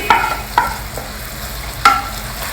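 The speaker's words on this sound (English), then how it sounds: "So continue stirring it for a couple of minutes more." A spoon stirs hot caramel into semiya payasam, a South Indian vermicelli kheer, giving a few soft scraping strokes against the pot over a faint steady sizzle, close by with no talking.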